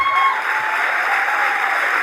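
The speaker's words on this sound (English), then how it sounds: "Look at these people clapping in the back." Audience clapping at a political speech, a steady, moderately loud patter of many hands filling the room with no pause, slightly distant.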